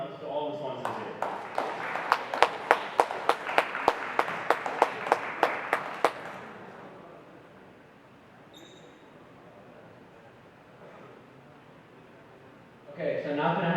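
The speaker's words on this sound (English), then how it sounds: "So let's just give a huge round of applause to all the sponsors here." Sparse, sharp handclaps ring out for the first six seconds at a hackathon opening ceremony, clearly separate and fairly close, then fade into quiet room tone before a burst of noise at the end.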